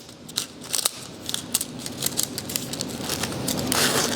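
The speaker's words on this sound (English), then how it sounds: "So again, I'm just going to cut a little piece." Scissors snip a small piece of transfer foil for embellishing furniture, a series of light, close cutting clicks and crackles against quiet room noise with no talking.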